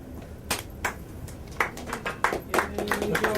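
Scattered hand claps from a small audience at the close of a lecture on websites and SEO, a handful of uneven, sparse claps that gradually thicken toward the end, with faint voices underneath.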